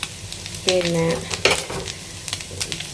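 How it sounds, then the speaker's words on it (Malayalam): Curry leaves, shallots, garlic and fennel seeds fry with grated coconut in a pan for a roasted crab curry paste: a close, steady sizzle with stirring scrapes, and a voice speaks briefly over it. "ഒക്കെ ഇട്ടിട്ടാണ് ഒന്ന് വറുക്കുന്നത്."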